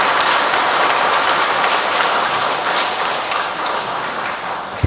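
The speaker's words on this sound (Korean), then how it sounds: "힘찬 박수로 맞아주시면 좋겠습니다." A church congregation applauds to welcome a visiting priest, a dense, steady wash of clapping that fills the space and slowly thins toward the end, with no speech.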